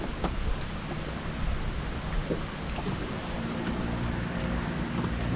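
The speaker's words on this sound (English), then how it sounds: "with this wind blowing like it is, we pulling through a bunch of brush right here." Wind gusts across open water around a fishing boat during catfishing, a steady low rushing buffet with faint knocks and hull sounds, moderately quiet, no talk.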